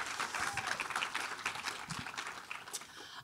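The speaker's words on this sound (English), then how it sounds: "please applause for that." Audience applause after a question at a Front Row event with Colman Domingo and the Sing Sing cast, a dense steady clapping from a crowd that holds for about three seconds before tapering, with a faint voice underneath.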